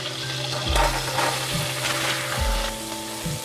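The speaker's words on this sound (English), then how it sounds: "I have heated here some butter. To this I am adding the paneer." Marinated paneer pieces fry in heated butter, a loud, close, continuous sizzle with occasional crackles and soft shifts as the pieces settle.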